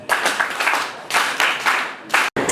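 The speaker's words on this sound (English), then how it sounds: "So we can add her a mighty hand clap for that." A small group claps hands in bursts, dense close applause that swells and drops across a couple of seconds with a brief cut near the end.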